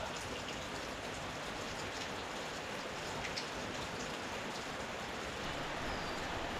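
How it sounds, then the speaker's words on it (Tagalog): Rain falls on a house roof in a steady, dense patter, a continuous soft hiss with scattered sharper drops, even in level from start to finish. "Lagi na lang umuulan."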